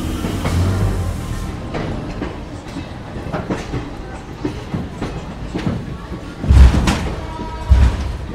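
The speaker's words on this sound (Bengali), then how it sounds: "ট্রেন কিন্তু একদম নির্দিষ্ট সময় 7টা 20-তে ছেড়ে দিল শিয়ালদা থেকে রামপুরহাটের উদ্দেশ্যে" A passenger train running out of Sealdah station toward Rampurhat, with a steady rumble and clickety-clack of the wheels on the rails, plus a few heavier thuds near the end, heard from on board.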